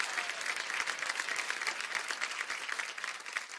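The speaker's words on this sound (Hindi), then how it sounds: "बहुत जोरदार तालियां यार।" Steady, dense applause from a dance-show audience, many hands clapping together at even loudness throughout, with no voices over it.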